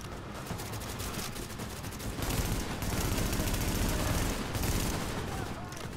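Dense video game gunfire in Tom Clancy's The Division rattles in overlapping bursts and sustained volleys, loud and continuous, with an intense firefight across the whole stretch.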